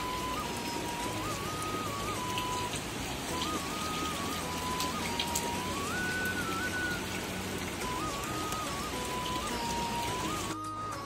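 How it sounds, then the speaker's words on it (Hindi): Steady cloudburst rain in Munar village, Bageshwar, Uttarakhand, patters on a surface, a dense continuous hiss with a repeating electronic tone running over it. "ये पिछले 1 घंटे से बारिश है"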